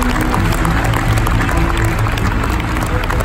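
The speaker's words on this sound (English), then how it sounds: "I would like to give them a big round of applause." An audience at a corporate centennial celebration applauds in a dense, sustained wash of clapping that stays steady and loud from start to finish.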